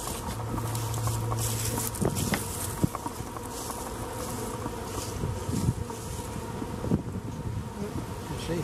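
Honey bees buzz steadily in a dense, close swarm over an open Langstroth beehive, a continuous droning hum with light patter and a few soft knocks from handling the frames.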